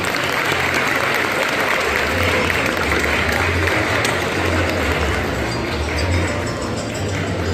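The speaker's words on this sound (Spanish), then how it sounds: "Calurosos los aplausos para ella." Sustained applause from a large audience at a Paraguayan cultural festival fills the hall, a dense, steady wash of clapping lasting throughout, loud and close with no pauses.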